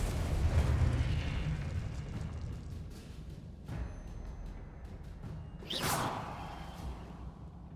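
A Confringo fire spell exploding in Hogwarts Legacy, a heavy rumbling blast that fades into low debris noise, followed by a sharp whooshing burst near the end.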